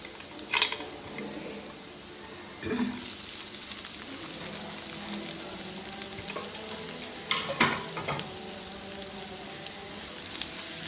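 Finely chopped onion frying in a pan over low flame for palak paneer, a steady crackling sizzle with occasional louder stirring scrapes, no talking.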